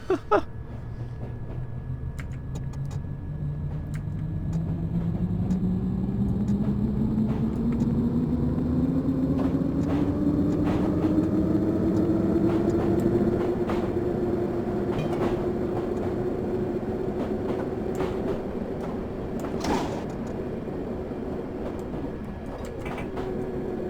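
A D78 Stock London Underground train in Train Simulator 2018 runs steadily along the line, its motor tone rising in pitch as it speeds up and then holding level, with occasional clunks and rattles, loud and close throughout.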